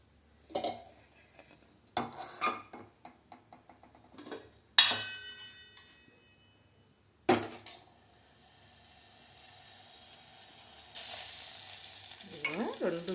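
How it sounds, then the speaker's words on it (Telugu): Tempering for tomato dal begins with a pan and spoon clinking and clattering in short bursts, then oil sizzles in a loud, steady hiss that builds toward the end. "ఇది తిరగమాత వేసుకొని పక్కన పెట్టేసుకుందాం."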